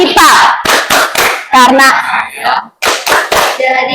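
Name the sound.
rhythmic hand clapping, a class clap chant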